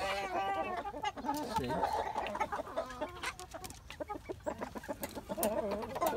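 Young roosters and chicks cluck and peep steadily at close range on a farm, a busy overlapping chorus of calls with a voice briefly heard among them.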